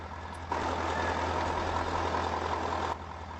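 A truck engine in the video game Farming Simulator 22 idles with a steady low rumble, and a broader layer of engine noise swells in and holds for a few seconds before dropping back.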